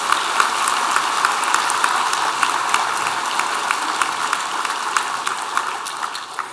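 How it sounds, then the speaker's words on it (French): An event audience in a hall applauds steadily, dense clapping filling the room at a consistent level before easing slightly at the end. "On peut les applaudir."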